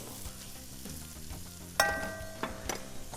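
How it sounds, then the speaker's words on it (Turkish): Spinach filling being stirred with a wide spoon in a pan after salt goes in, a low steady sizzle with a sharp metallic spoon clink midway and a couple of softer scrapes after. "Şöyle bir karıştırıyorum"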